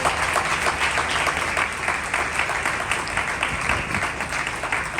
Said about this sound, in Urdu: زوردار تالیوں کے ساتھ اس فیملی کو ویلکم کیجیے